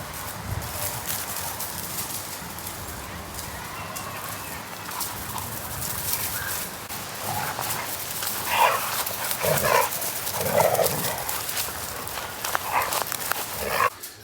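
Dogs at home making short bursts of barking or yelping over a steady background hiss, growing livelier toward the end at moderate distance.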